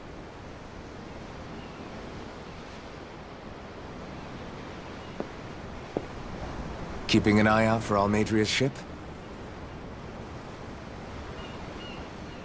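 Ocean waves and wind at sea in Tales of Arise, a steady rushing surf and breeze throughout, with a short spoken line rising over it midway.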